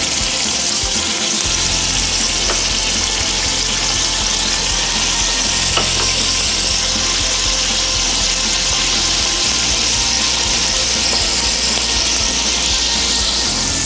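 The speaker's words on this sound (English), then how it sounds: "Should hear a nice gentle sizzle when you go into the pan." Slider patties sear in a hot pan with a loud, continuous hiss and crackle of frying fat, steady throughout with no talking.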